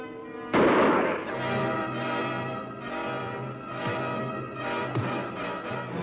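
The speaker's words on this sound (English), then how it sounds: "No, I will fire the first shot." A single loud gunshot cracks out in an old Western television setting, fired as the first shot before target practice, followed by a long ringing decay over background music, with faint later pops.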